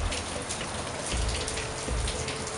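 Steady rain falling and pattering on surfaces as a thunderstorm eases, an even wash of sound with no voices.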